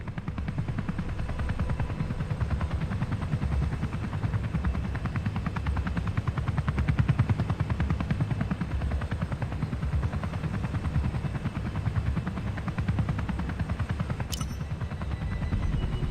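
Helicopter rotor from the Comanche flight game drones steadily and loudly throughout, a continuous dense thudding with a brief sharp click near the end.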